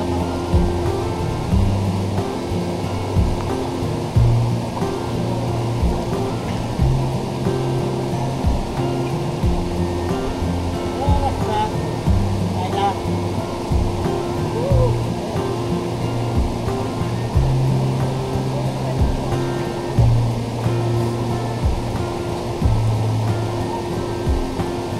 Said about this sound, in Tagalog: Ang sarap damhin ng malamig na tubig at pakinggan ang mga lagaslas nito.